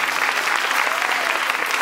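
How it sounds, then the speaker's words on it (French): An audience claps for a young magician at a French show: dense, steady applause filling the room, close and fairly loud, with a voice faintly mixed in. "Mesdames, Messieurs, applaudissements pour notre jeune magicienne."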